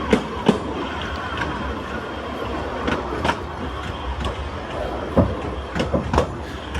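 A train runs along the railway near Dolgoch Viaduct in Wales with a steady rumbling roll and periodic wheel clicks, heard fairly close, continuous throughout with no voices.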